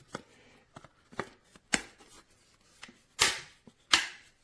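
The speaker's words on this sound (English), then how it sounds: "you can hear the case snapping on tight in place" A series of sharp plastic clicks and snaps as a waterproof 360 case snaps onto a Samsung Galaxy S25, close and fairly quiet, irregularly spaced, the last few louder.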